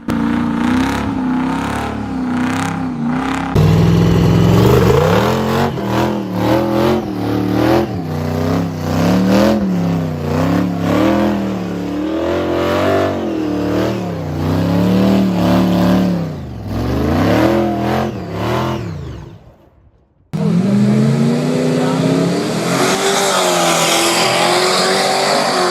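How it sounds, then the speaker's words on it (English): A turbocharged small block Ford hot rod accelerates hard, its loud engine revving up and dropping through repeated gear changes, cutting out briefly before roaring back up close by. "Turbocharged small block Ford getting down through there"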